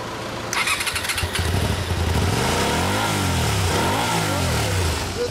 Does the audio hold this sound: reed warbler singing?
no